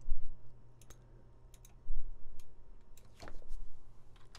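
Computer mouse clicking in short, crisp, sparse clicks at close range over a quiet room hum, no talking.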